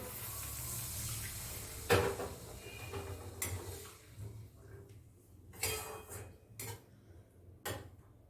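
A little water goes into a pan of fish curry gravy with raw tomato, making a running, splashing sound mixed with metallic clanks of the pan and utensils.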